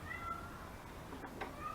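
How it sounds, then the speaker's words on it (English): A cat meows faintly in the background, with a couple of short, thin calls over a quiet room. "Can you guys hear the cat?"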